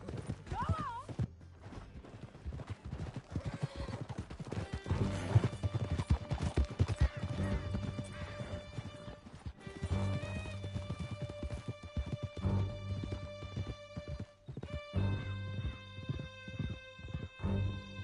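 Horses galloping hard through a canyon in Red Dead Redemption 2, with steady drumming hoofbeats and an occasional whinny under shouting voices and game music.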